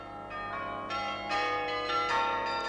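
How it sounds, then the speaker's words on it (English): Several differently tuned bells struck in a chiming sequence by a cam-and-lever mechanism, clear bright tones ringing out with sustained overlapping decay, fairly loud and close, no voices. "You set the cams in like pegs to trip certain levers and ring certain bells."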